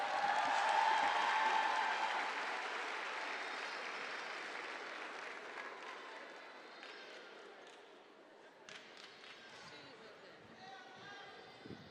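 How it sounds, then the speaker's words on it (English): A graduation ceremony audience applauds a speaker in a large hall, loud at first and then slowly fading over about twelve seconds, with scattered claps and crowd murmur lingering at the end. "Give her a round of applause."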